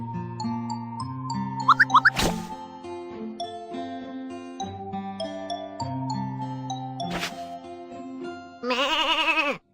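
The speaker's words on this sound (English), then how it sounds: "Let's do some sheep shearing." Cartoonish sheep bleats in a children's farm-animal care game during sheep shearing, repeated bleats over cheerful tinkling musical jingles and chimes, ending with a louder wavering bleat.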